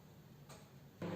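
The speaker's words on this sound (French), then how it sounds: "Donc là il y a un micro-ondes qui chauffe" A microwave oven runs while heating chocolate, giving a steady close humming drone that jumps in loudness near the end.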